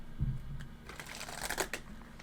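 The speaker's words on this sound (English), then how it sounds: "Just feel like doing a few more shuffles here, pile number 2." Tarot cards shuffled by hand up close, a soft riffle followed by a quick flurry of papery flicks and slaps, quiet and without talk.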